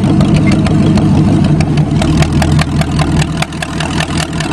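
Engine of a tuned-up farm Cheviac runs close and loud without stalling, a steady rumble with a rapid ticking pulse through it and a slight dip near the end, no talking.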